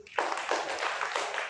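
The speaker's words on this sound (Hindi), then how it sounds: "चलिए भाई पवन के लिए तालियां बजाइए" A class of students clapping for a classmate, a short burst of quick, scattered hand claps from several people in a room, close and moderately loud, rising sharply and then holding briefly.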